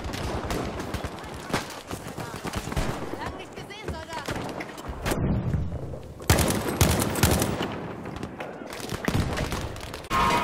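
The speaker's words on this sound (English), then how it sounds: "He's using an anti-tank gun, yeah? On infantry." An anti-tank gun fires at infantry in the Battlefield V shooter game, with repeated loud blasts and bursts of gunfire amid battle noise. Someone talks over parts of it.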